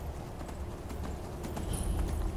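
A horse gallops in Skyrim, with clip-clop hoofbeats drumming in a quick, even rhythm against a low ambient bed and growing slightly louder toward the end.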